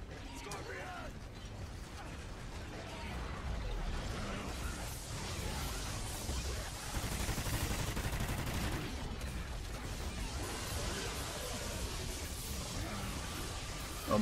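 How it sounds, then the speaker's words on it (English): Gunfire hitting propane tanks in Call of Duty Ghosts Extinction, dense rapid shooting mixed with mechanical clatter, growing louder and busier partway through. "how could I shoot those propane tanks on accident?"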